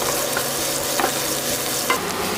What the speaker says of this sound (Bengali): 5 ফোড়ন, রসুন, কাঁচা লঙ্কা আর পেঁয়াজ। এবার একসঙ্গে ফ্রাই করে নেব।